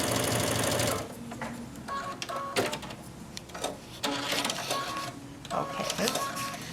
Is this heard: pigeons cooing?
no